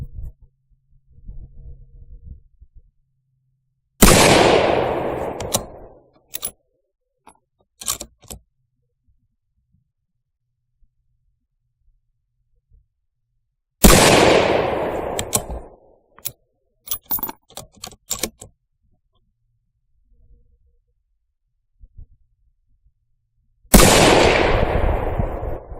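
Three loud Remington 700 rifle shots at a long-range target, spaced about ten seconds apart, each a sharp close blast with a ringing decay, followed by bolt clicks and handling rattles.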